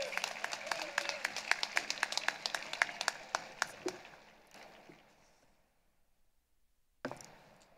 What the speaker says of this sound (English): So, a nice round of applause for Lauren.